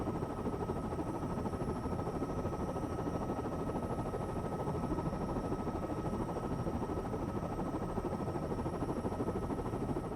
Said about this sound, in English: So we've done a bit of a helicopter tour.